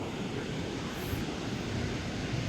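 Sea waves wash around Ratnadurg Fort in Ratnagiri, making a constant broad roar mixed with wind buffeting the microphone.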